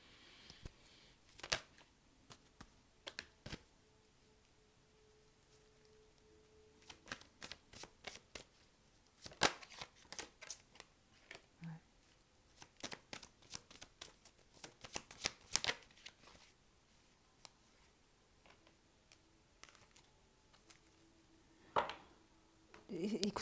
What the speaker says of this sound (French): On va tirer d'autres cartes de l'oracle.